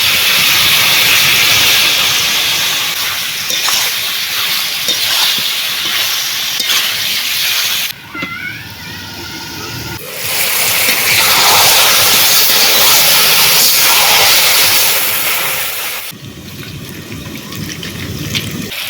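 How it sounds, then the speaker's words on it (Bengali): A burnt ground spice paste with ginger, garlic and onion frying in a pan gives a loud, steady close sizzle and hiss, briefly dipping twice before surging back, with no talk. "দিয়ে দেবো পুড়িয়ে বেটে রাখা মশলা আদা রসুন পেঁয়াজ"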